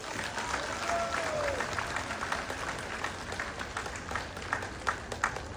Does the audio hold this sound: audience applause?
yes